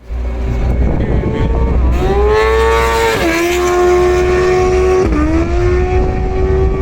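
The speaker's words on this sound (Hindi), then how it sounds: "ये जो आपने आवाज सुनी ये बेसिकली मेरा क्लच स्लिप होने लग गया" A Kawasaki ZX-10R sport motorcycle engine revs hard and steadily, its pitch rising and sagging in uneven surges from a slipping clutch. Loud and close, no voices.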